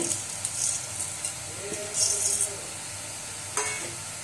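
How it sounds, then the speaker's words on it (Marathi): Whole spices sizzle in hot oil in a pan for tempering keema, a soft continuous crackle with brief brighter hisses and a light stir, close up, with no talking. "आधी खडे मसाले टाकून घेऊ सर्व."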